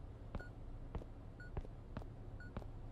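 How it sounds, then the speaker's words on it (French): Faint, evenly spaced electronic beeps in a video game repeat roughly every half second, short and clicky over a low background hum. "J'entends un bip."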